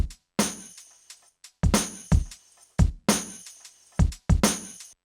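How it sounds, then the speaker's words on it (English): A punchy hip hop drum loop with heavy kicks, sharp snares and crisp hi-hats in a steady, repeating groove, loud and alone. "I imported one of my old drum loops into the sequencer as well"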